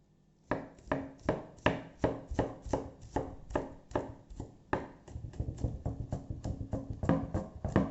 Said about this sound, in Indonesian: Ini bawang putih 3 siung ya. Ini kita geprek lalu kita potong kecil.